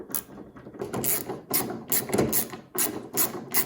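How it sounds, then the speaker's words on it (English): A small thumb-drive speed wrench ratchets in quick clicking bursts, close and crisp, with short gaps between turns while working on a Dodge Intrepid's reverse light assembly. "I'm going to use one of these little thumb drives or speed wrenches"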